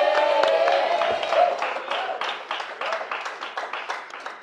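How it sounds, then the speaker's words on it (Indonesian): Audience applause at a live event, scattered clapping that settles into a rhythmic pulse under a lingering voice and some crowd noise. "Boleh minta tepuk tangan?"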